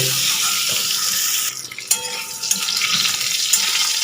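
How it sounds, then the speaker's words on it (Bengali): Long-sliced pointed gourd (potol) frying in oil, a dense close sizzle that briefly drops as the pieces are turned, with spatula scrapes and light clinks of the pan. "পটলগুলোকে একটু নাড়াচাড়া করে পটলগুলোকে একটু লাল করে ভেজে নেব"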